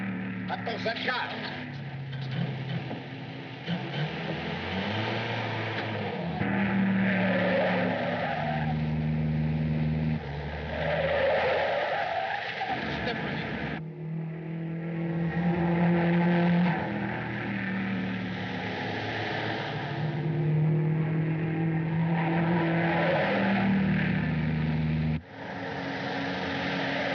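A car speeds off in a 1939 film chase scene, its engine droning steadily with tire noise and swells under music, and voices speak over it.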